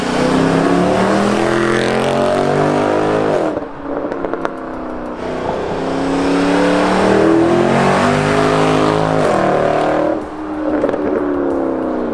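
A powerful Mercedes R63 AMG V8 engine revs hard and loud, climbing in pitch, dropping briefly, then surging again with a deep burbling roar, close and without talk.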